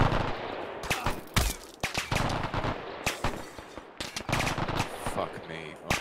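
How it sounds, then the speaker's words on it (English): Heavy machine gun fire in the Arma 3 military shooter, loud bursts of rapid shots with short gaps between them and the occasional single crack, and a voice talking among the bursts. "That's a big machine gun"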